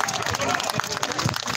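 An audience at a peace demonstration applauds in a dense, steady patter of clapping with crowd murmur, a short, fairly loud burst.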